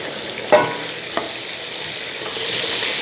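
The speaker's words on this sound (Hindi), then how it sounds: "इसको हम फ्राई करते हैं।" Chicken pieces frying in a pan for a creamy white sauce pasta, giving a steady bright sizzle throughout with a couple of sharp stirring clacks near the start and no talking.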